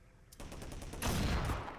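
Gunfire in a Source engine mod set in an air exchange retail area, where a sniper rifle is fired: a sharp crack followed by a heavier, louder shot with a lingering echo, and no talking.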